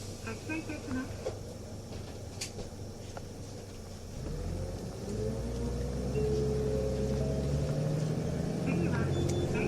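A Nissan Diesel UA bus, model KL-UA272KAM, pulls away from a stop: low engine rumble swells and climbs steadily after a quieter idle, with a rising whine over it and no talk.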